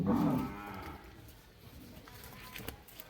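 A cow moos loudly and close at a Dinajpur cattle market selling lean dairy cows, one low drawn-out call fading into busy market background noise.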